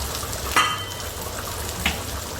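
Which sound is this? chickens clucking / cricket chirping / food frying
food frying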